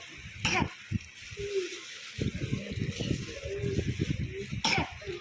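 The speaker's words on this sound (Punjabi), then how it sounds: "ਹੁਣ ਕੀ ਕਰਨਾ ਖਾਂਸੀ ਆਈ ਜਾਂਦੀ ਹੈ" A couple of sharp coughs, one early and one near the end, with low muffled voices and rustling in between.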